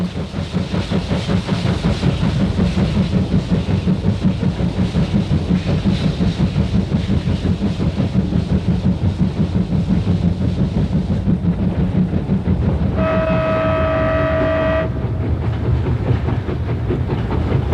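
A train runs along the new Silk Road railway through the Tian Shan mountains, a steady rolling rumble with rhythmic clatter throughout, and a brief horn-like tone near the end.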